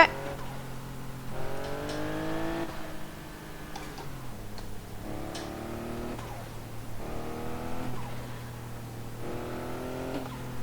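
A Porsche turbo car accelerating on a Japanese highway, with engine tones climbing through repeated gear pulls and short dips between shifts, heard steadily from inside the cabin.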